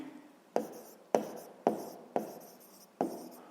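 A pen or chalk scratches out five quick strokes in a steady rhythm during a sixth-grade math lesson on the surface area of a rectangular box. Each stroke starts with a sharp tap, and the sound is close and fairly quiet.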